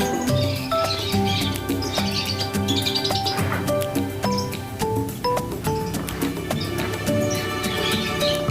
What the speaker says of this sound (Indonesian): Lovebird guys.